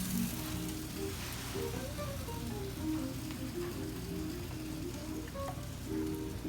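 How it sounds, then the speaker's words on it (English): Food sizzles in a hot pan on a home stove, a steady close crackle that stays even throughout, with faint tonal sounds in the background. "Sizzle."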